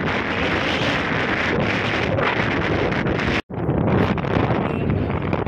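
Strong coastal wind at Innes National Park buffets the microphone with loud, continuous roaring gusts, broken by a single brief dropout before the rumble resumes.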